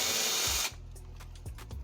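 A power drill backing a screw out inside a converted school bus, whirring loudly for under a second before cutting off into quieter wooden clicks and scrapes.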